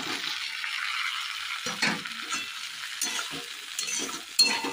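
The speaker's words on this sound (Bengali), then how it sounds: "এই আলু, ফুলকপি, সয়াবিন দিয়েও মশলাটা ভালো করে কষিয়ে নিই" Fried potato, cauliflower and soy chunks stirred into sizzling spices in a pan, a steady close frying hiss broken by scraping, clattering stir strokes with no voices.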